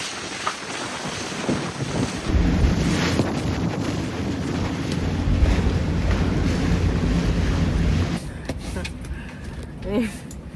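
Strong wind roars and buffets the microphone over sloshing water at a sailboat anchorage, dropping off sharply near the end, where a brief voice is heard.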